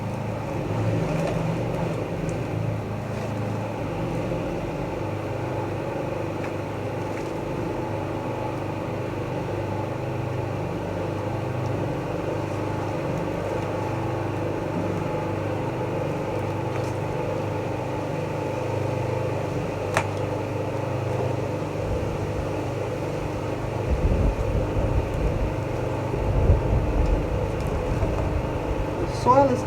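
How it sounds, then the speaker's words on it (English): A lawn mower runs nearby in a garden during plant repotting, a steady droning engine hum that continues throughout, fairly loud and constant with slight swells toward the end. "Sorry for the noise, they're doing the lawn."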